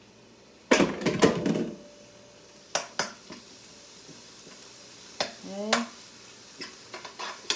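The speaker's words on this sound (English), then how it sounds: "I'm actually going to saute the spinach now in with the vegetables" Spinach stirred into sautéing vegetables in a pan: a few loud scraping, clattering stirs over a faint sizzle, with a brief spoken word from a person.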